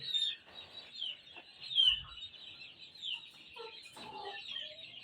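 Gamefowl chickens in a gameyard cluck and chirp softly at close range, several short calls scattered over a quiet background.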